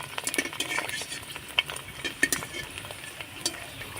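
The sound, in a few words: fuchka frying in medium-hot oil, being stirred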